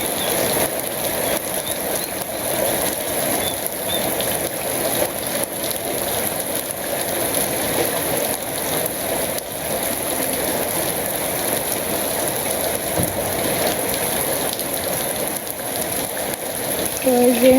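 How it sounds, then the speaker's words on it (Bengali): Steady rain falling on surfaces in a village, a dense, even hiss that continues throughout at moderate loudness, with no talk. "এই যে অনেকক্ষণ বৃষ্টি হলো"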